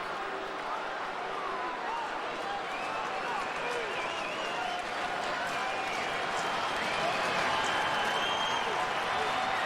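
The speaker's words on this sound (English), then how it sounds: "Crowd getting into it with 2 strikes" A baseball crowd at a Cardinals at Cubs game cheers and claps steadily through a two-strike count, a broad wash of applause and shouts, with no talk in the clip.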